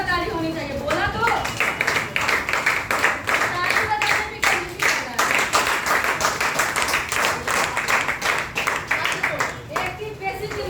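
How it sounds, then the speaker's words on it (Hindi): An audience claps in quick rhythmic bursts, close and lively, with voices and cheering mixed in under the steady pulse of hands. "इनके लिए जोरदार ताली होनी चाहिए"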